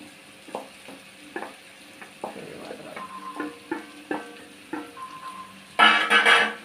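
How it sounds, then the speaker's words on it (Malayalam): A spoon stirs fenugreek powder into a carrot and mango pickle in a pan. Repeated close scraping and tapping strokes come at an uneven rhythm, ending in a louder burst of clattering. No one speaks. "ഉലുവാപ്പൊടിയും കൂടി ചേർത്തൊന്ന് ഇളക്കി"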